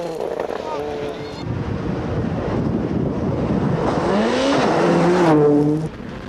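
A 1998 rally car screams flat out in sixth gear at about 120 mph, its engine note rising loud and close over heavy wind rush, with a voice talking underneath.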